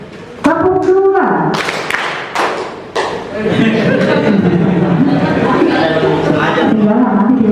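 A school class claps hands together on command, producing a few sharp thuds followed by a burst of scattered clapping mixed with chatter and laughter from the children.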